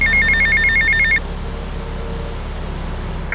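A payphone in Grand Theft Auto: Vice City sounds a loud, rapid electronic ring, a trill of quick repeated pulses lasting about a second. It then cuts off abruptly, leaving a low steady hum.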